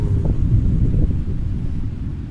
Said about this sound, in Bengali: অসম্ভব সুন্দর বাতাস, পাহাড়ের বাতাস বইছে।